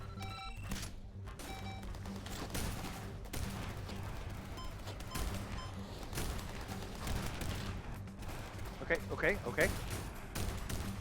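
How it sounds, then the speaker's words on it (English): Rapid shotgun blasts in a mech pilot video game, firing in quick succession amid dense, busy combat noise and thruster sounds, with a player talking over the action. "Shotgun doing some more. Ooh, I like that rate of fire."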